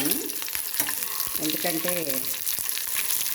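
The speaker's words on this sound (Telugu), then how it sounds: "మిక్సీ పట్టేసి పోపు మాత్రం జమ్మని వేసుకుంటే చాలు." Garlic tempering sizzles loudly and steadily in a hot pan for a coconut and gongura chutney, a bright crackling hiss running throughout while someone talks over it.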